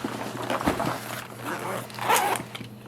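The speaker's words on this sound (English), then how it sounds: "All of these zippers are phenomenal. They're really easy to grab and go" Zippers on a Samurai Tactical Seigyo fishing backpack are pulled open and shut in several quick rasping strokes, close and clear with faint handling noise between.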